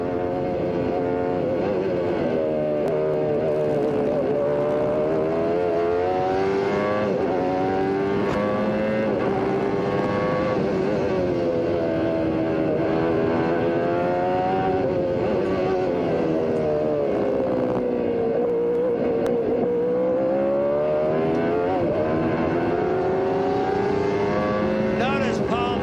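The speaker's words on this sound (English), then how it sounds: "we're hearing the Honda. It fires like your passenger car that you drive on the street." Honda-engined IndyCar race cars at Mid-Ohio in 1994 give a continuous loud engine drone with rising and falling pitch as the revs climb and drop through the gears, heard under a commentator's voice.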